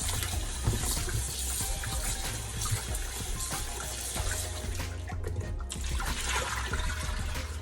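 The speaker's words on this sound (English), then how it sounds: "I'm just washing it now with my vinegar to cut away that rawness on that fish" Water runs and splashes steadily as scaled fish is rinsed in vinegar water, a continuous close wash of liquid with brief sloshing bursts and no talk.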